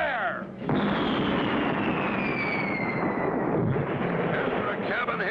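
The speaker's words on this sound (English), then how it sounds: "Blast away, Ezra. Fire!" Cartoon pirate ship cannon firing at another ship: a loud sustained booming roar with crackling rumble that fills the clip after a brief quiet start, close and continuous.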